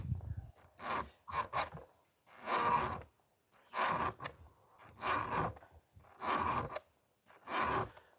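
A hand file rasps across chainsaw chain teeth in about eight firm, evenly spaced strokes, each a close, gritty scrape separated by short pauses.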